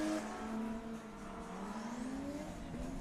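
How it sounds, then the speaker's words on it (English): An inline-six S-chassis drift car engine revs and drones steadily, pitch rising and falling, somewhat distant with no talking. "One sounds like it has a inline 6."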